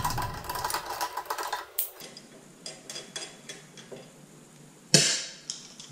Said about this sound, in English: Put them in our magnetic tray for now.